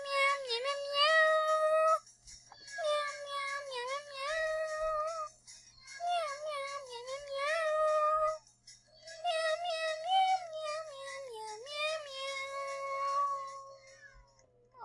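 A person imitates a cat with a long run of high, tonal meows in close succession, in bursts separated by brief pauses, loud and close with no other talk.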